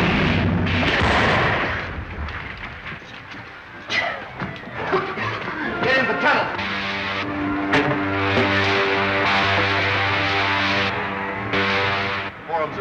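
A disintegrator pistol blast in a 1939 Buck Rogers serial: a loud crackling burst followed by a long sustained electronic hum and roar, with brief voices and dramatic sound mixed in.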